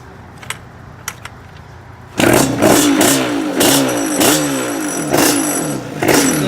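A Yamaha Banshee ATV with an exhaust leak and running issues, quiet at first with a couple of faint clicks, then its two-stroke engine bursts into loud, close revving with repeated throttle blips rising and falling.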